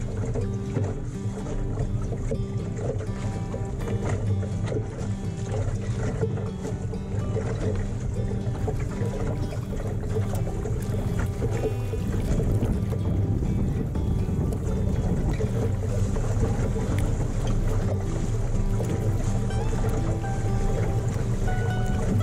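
A Welsford-designed sailing dinghy moves across Plymouth Sound, a steady wash of water against the hull with wind noise, continuous and close, no voices.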